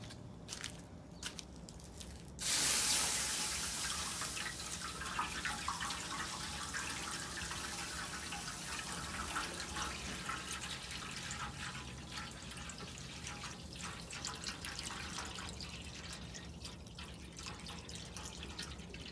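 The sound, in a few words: water filling smoker water pan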